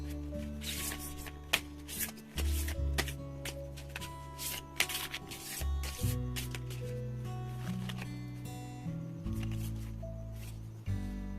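Tarot playing cards shuffled and dealt for a reading, with repeated crisp riffling and soft slapping card sounds close by, set against a low sustained musical background.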